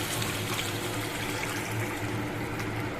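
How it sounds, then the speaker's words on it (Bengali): Water pouring steadily into a pot of potatoes fried in spices, a continuous close rushing trickle with no pauses, alone without talk. "এবার পরিমাণ মতো আমি জল দিয়ে দিচ্ছি।"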